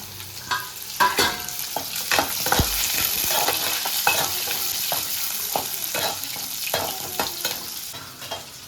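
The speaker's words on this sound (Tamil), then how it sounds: "வெங்காயம் வதங்கட்டும்" Whole shallots sautéing in a pan for a spicy kara kuzhambu gravy, with a continuous sizzle and frequent sharp scrapes and clacks of a spoon stirring close by, no talk.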